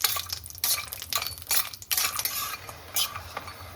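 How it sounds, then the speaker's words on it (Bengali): Lentil dumplings (bori) frying in mustard oil in a pan, heard close as a steady sizzle under repeated bursts of stirring and spoon clatter against the metal, with no talking. "এবার বড়িটাকে আমি লাল লাল করে ভেজে নিচ্ছি।"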